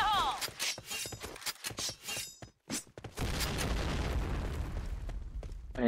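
Grenade blast in the shooter game Point Blank: sharp shattering bursts and pops, then a loud rumbling boom that sustains for several seconds, with a few pops over it.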